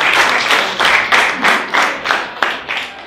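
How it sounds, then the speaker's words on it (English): A small group claps in an even, steady rhythm, loud and close, with no voices. "Clap for her too."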